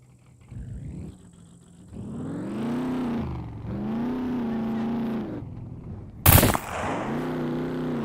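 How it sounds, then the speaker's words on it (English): A truck engine in the video game SCUM revs and hums steadily in harmonic waves, then a single sharp, loud gunshot blast cracks out near the end before the engine drone returns. "They shoot a shotgun and a 50 cal and they destroy my truck."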